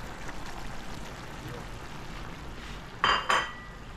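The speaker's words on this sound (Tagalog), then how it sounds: "so lagay na natin yung patatas" Fried potatoes tipped into a pan of Filipino pork adobo give two short clattering, sizzling bursts near the end, after a stretch of quiet kitchen background.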